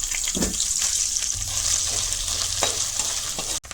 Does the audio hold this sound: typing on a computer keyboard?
no